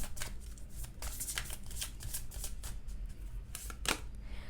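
Tarot cards shuffled during a reading to draw a clarifier card, a soft papery riffle of repeated flicks and slaps, close and fairly quiet, with no talking over it.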